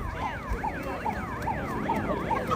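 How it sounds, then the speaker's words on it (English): A siren horn wails in repeated rising-and-falling sweeps, about five cycles, blown within a football stadium crowd at a youth tournament after a touchdown, loud over steady crowd noise. "somebody has their own siren horn"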